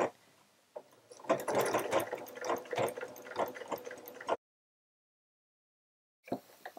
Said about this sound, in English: I've got my walking foot on my sewing machine as well